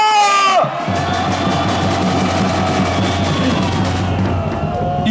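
A large crowd at an outdoor political rally in Seoul roars a sustained, loud cheer lasting several seconds, a dense wall of voices that swells in after a brief drop and holds steady throughout.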